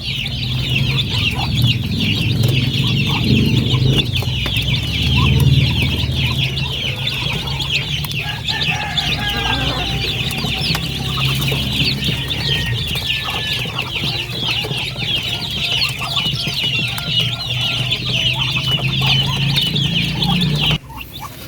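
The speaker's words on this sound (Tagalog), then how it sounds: "nakapagbigay na tayo ng ating patuka sa ating mga sisiw" Month-old chicks feeding on a farm, with continuous high cheeping and clucking from many birds over a low background rumble, steady throughout.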